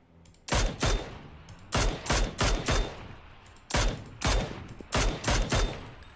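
Rapid semi-automatic rifle fire from Mini14 or SLR rifles in a shooting video game, a dozen loud cracking shots in uneven bursts and pairs with short pauses between, close and dominant with no talk over them.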